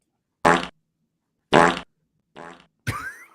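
Four short fart sounds burst out separately against silence, the first two loud and full, the third quieter, the last one squeaky and rising.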